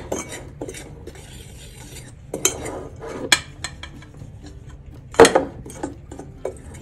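Pork belly being stirred in its marinade with chili powder, giving irregular scraping and clinking knocks of utensil against bowl, close and moderately loud, with sharper clatters near the end and no talk.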